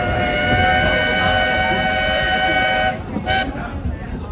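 The Walt Disney World Railroad train rolls into a station with a steady rumble and a high whine of wheels on rails, then slows, and a brief horn-like tone sounds near the end.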